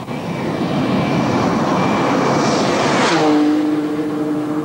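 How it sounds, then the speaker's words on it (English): A Ferrari Enzo supercar driven flat out on a test track roars loudly and continuously at high speed, the engine note holding steady and then rising into a sustained high-revving tone. "the test team from Ferrari pushes the car to the limit"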